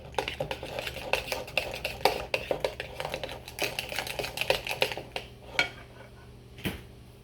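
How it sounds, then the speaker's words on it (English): A spoon stirs homemade slime in a container, making quick irregular clicks, taps and squelchy scrapes up close, fading to a few scattered knocks at the end. "I think let's use the spoon."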